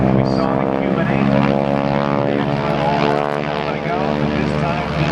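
A propeller airplane flies a Flat 8 aerobatic maneuver at a Blue Angels homecoming airshow, its engine droning loud and steady throughout with a rich layered tone.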